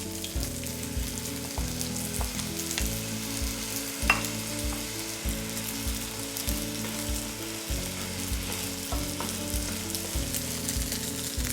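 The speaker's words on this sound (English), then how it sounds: "I'm cooking the filling and I'm constantly stirring because I don't want the garlic to stick on the bottom of the pan" Lumpia filling of garlic, potatoes, carrots and jicama sizzles steadily in a pan while being stirred, with rhythmic scraping strokes over the constant frying hiss.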